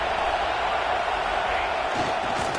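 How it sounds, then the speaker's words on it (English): Stadium crowd noise at a college football game, Ole Miss at Florida, rising as fans roar behind the defense on third down, a dense continuous wash of cheering from all around. "Big 3rd down as the crowd gets behind this defense."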